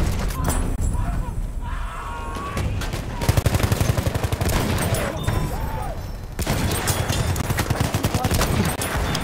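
Rapid, continuous machine gun fire in the World War I shooter Battlefield 1, loud and close, with rattling bursts running through the whole stretch alongside other battlefield noise.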